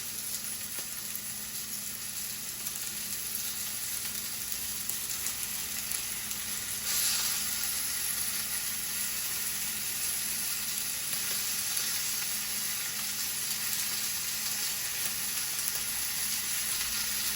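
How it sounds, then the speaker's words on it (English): Smoked bacon and chorizo sizzling in a frying pan, a steady close hiss and crackle of fat that continues evenly throughout with no talking. "got some smoked bacon in the pan, and then this is the chorizo that I use"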